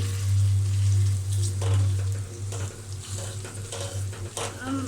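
Eggs frying in a pan, a steady close sizzle with a strong low hum underneath and brief scraping stirs and clatter scattered throughout.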